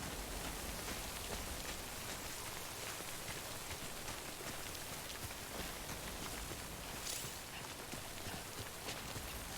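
Steady rain from the Death Stranding video game, a dense continuous hiss of falling drops with faint patters, heard alone at an even level throughout.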